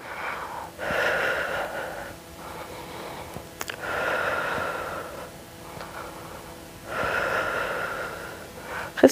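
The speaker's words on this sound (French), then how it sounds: "Et tu inspires et tu expires." Slow, deep breathing during a home muscle-strengthening workout, three long audible exhale-inhale cycles with a rushing, slightly wheezy air quality, close to the microphone and with no talking.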